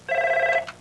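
A single short electronic telephone ring, a bright buzzing tone lasting under a second, heard up close with no talking.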